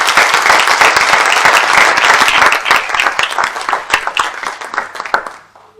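Audience applause after a speaker asks a gathering to clap for Juanjo: dense, sustained clapping from many hands that fills the room, then thins out and fades near the end.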